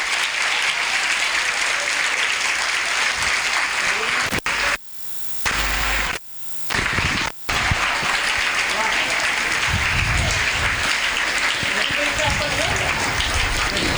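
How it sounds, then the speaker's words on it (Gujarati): Dense, loud applause at a school award ceremony honouring teachers. It fills the space, breaks off briefly for a few seconds in the middle, then resumes just as strong. "આપણે સૌ જોરદાર તાળીઓથી એમને અભિવાદન કરીએ."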